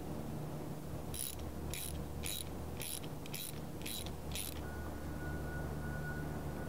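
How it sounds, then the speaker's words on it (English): A hand ratchet with a 16mm socket clicks in seven quick, evenly spaced bursts, up close and fairly quiet, as it tightens the push rod of a three-arm bushing puller on a BMW E46 control arm. "I'm going to use a 16mm socket to tighten down the push rod on this puller"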